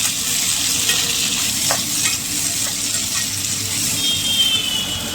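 Potatoes and fenugreek greens fry in a pan during cooking aboard a truck, giving a loud, steady sizzle with occasional stirring scrapes throughout.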